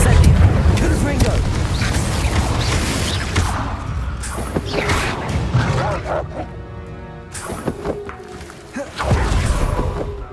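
Incendio and Confringo spell blasts from the Hogwarts Legacy video game erupt as loud booming whooshes and fiery bursts amid combat noise, with a brief tonal shimmer near the end.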